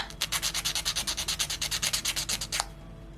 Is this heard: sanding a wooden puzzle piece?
yes